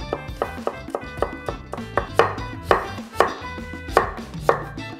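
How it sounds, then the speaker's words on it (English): A knife chops a potato steadily on a cutting board, about ten crisp, evenly paced strikes close up, with no one speaking. "we're gonna cut this end first"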